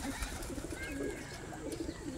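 Pigeons coo softly in repeated low, throaty phrases at a rooftop loft where young birds are being trained, faint and a little distant against a quiet background.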